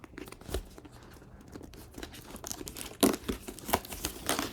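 Tape being peeled and pulled off a plastic-wrapped yarn package: close crinkling and crackling with sharper tearing bursts near the end, moderately loud and irregular, without talk.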